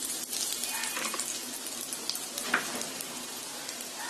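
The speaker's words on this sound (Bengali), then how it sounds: "এখন আদা আর রসুনটা একটু ভেজে নেব।" Ginger and garlic fry in a pan for tomato soup, a soft steady hiss with light crackles and one brief sharper clink, moderately quiet and unbroken.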